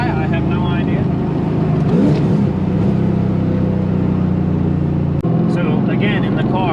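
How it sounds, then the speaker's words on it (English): An LS-swapped Nissan S14 with Valvetronic Designs universal mufflers revs up and holds a strong, rising drone nearby, with a brief sharp click near the end; voices murmur faintly underneath. "The car sounds phenomenal still"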